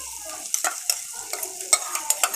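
Ground masala paste for a paya (trotters) soup stirred and frying in a hot pan, with soft steady sizzling broken by repeated scraping strokes of a spoon against the pan, close and alone.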